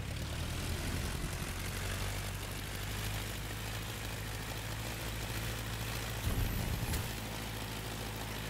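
Propeller engine of the widest aerobatic plane in The Crew 2 video game, a steady droning hum with a low buzzing tone throughout, briefly surging near the end, with no talk.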